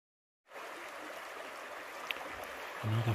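A babbling brook rushes steadily after a brief silence, a soft continuous wash of water with a low thump near the end.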